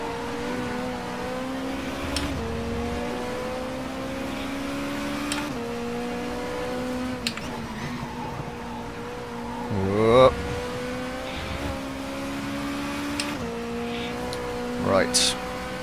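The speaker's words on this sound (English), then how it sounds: "Sound of the engine, the sound of the exhaust, the gear changes is so bloody nice" Race car engine in Race 07 during a WTCC 07 event at Valencia, holding a steady drone with exhaust note and occasional shifts, one louder surge around the middle and another near the end, with speech over it.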